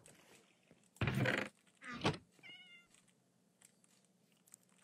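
Cat meowing in the video game Minecraft, a couple of short, fairly loud meows, the second with a rising tonal cry, over a low background hum.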